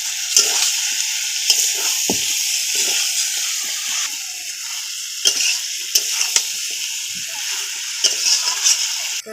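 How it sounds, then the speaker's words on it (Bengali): Washed chicken being sautéed in a pan for a Bengali mango chicken dish, a loud continuous sizzle and hiss with repeated scraping stirs throughout, no talking. "আমি ভালো করে কষে নেব।"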